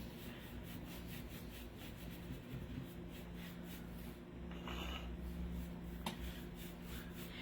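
Annie Sloan dark wax being rubbed onto a wooden buffet, a steady soft scraping and rubbing in close, continuous strokes with no talk.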